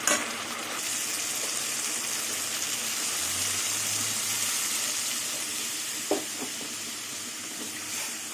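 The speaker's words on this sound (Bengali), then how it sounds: "এবার আমি জল দিয়ে দেবো" Water splashing into a hot pan of sautéed potatoes and spices, a steady loud sizzle and hiss running the whole time, with a couple of brief clinks from a utensil toward the end and no talking.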